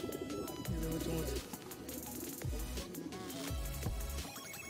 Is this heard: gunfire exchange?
no